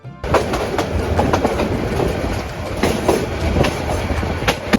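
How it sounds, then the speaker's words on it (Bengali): Bangladeshi passenger train on the Mymensingh to Dhaka route, its wheels clattering over the rails in a steady, loud rolling rumble with rhythmic clicks, heard from inside the carriage with no talking. "এই ট্রেনের প্রতিটি চাকার শব্দ"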